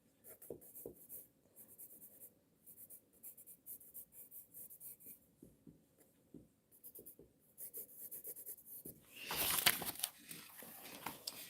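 Pencil scratching and scribbling on paper for about eleven seconds, steady close strokes that swell into louder, rougher rubbing near the end, with no talking; a small piece of paper serves as a ruler for a straight line in a live landscape figure drawing.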